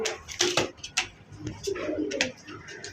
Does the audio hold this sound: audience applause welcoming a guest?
no